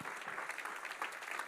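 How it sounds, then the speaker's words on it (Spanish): A church congregation applauds in praise, steady continuous clapping heard at a moderate distance. "Denle el aplauso, Señor, en alabanza."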